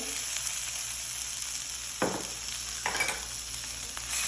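A tablespoon of pepper paste fries in a pan with coriander leaves, giving a close, steady sizzle broken by two quick scraping strokes of stirring.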